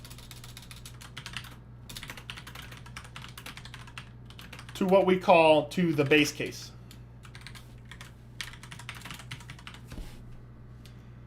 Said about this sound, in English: So while I'm typing out these notes